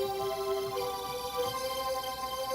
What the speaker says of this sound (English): If you put a lot of violins together, it sounds like this.